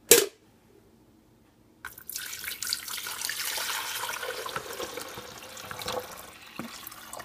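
Water pouring into a Hamilton Beach coffee maker's reservoir, a steady splashing rush that starts after a short silence and runs continuously to the end, close and moderately loud.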